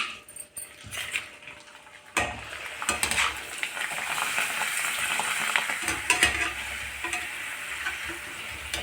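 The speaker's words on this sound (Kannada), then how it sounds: "ಇದನ್ನೇ ಎಣ್ಣೆಲಿ ಕರಿತಾ ಇದ್ದೀನಿ" Papad and boti deep-frying in hot oil as an evening snack, a steady loud sizzle and bubbling that swells after a quiet start and keeps going throughout, with occasional utensil scrapes and no talking.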